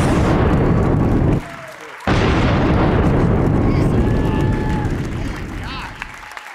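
A double cannon sound effect played during a comedy podcast: loud broadband booms, the second hitting suddenly after a brief dip, then a long rumbling tail that slowly fades.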